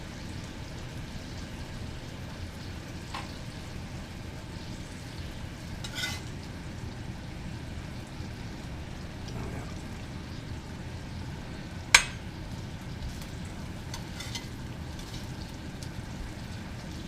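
Food slides and fries quietly in a restored, well-seasoned cast iron pan, a soft continuous sizzle with occasional faint stirring scrapes and one sharp tap of a utensil against the metal.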